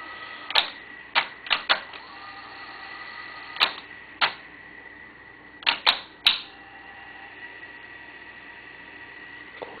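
Mechanical clicks and clunks from a Sony SL-5000 Betamax VCR tape mechanism switching between pause and play, about nine sharp close transients in irregular pairs and clusters over a faint steady hum, with no talking.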